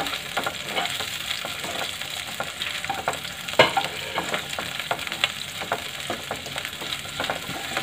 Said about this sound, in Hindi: अब हम पैन में तेल चढ़ा देंगे, इसमें जो हमने प्याज और शिमला मिर्च काट के रखे हैं इनको डाल देंगे और हल्का सा फ्राई